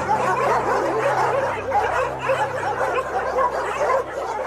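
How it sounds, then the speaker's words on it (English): Many dogs bark and yelp continuously at a dog shelter, a dense, overlapping chorus close by with no pauses, loud throughout. "as you can hear, I'm here, but there are dogs everywhere"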